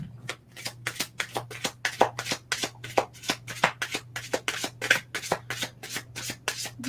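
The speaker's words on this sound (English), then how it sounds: "I'm going to pull one more card for you." A deck of oracle cards shuffled by hand, a rapid series of crisp riffling and slapping bursts repeating in an even rhythm, close and fairly quiet over a low steady hum.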